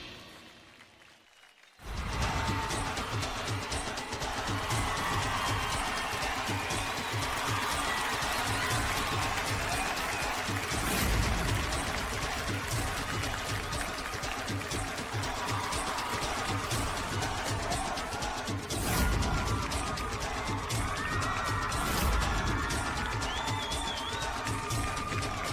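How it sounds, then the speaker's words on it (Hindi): A studio audience on a Hindi television reality show greets rival teams with loud, sustained applause, cheering and crowd shouts that fill the room steadily for about twenty-five seconds after a brief quiet start. "जोरदार तालियों के साथ स्वागत कीजिए"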